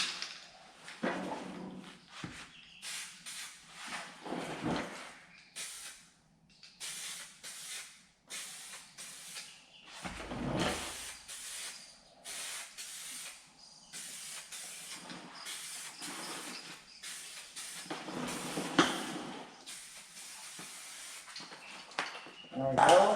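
Spray paint hisses onto the rocker panels of a truck, a Chevrolet 2500HD, in repeated bursts of varying length, with short pauses between passes, close and moderately loud.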